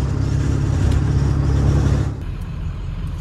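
A loud, deep 7.3L Powerstroke diesel engine in a Ford F250 pickup idles with a steady low rumble, then drops slightly in level partway through; no voices.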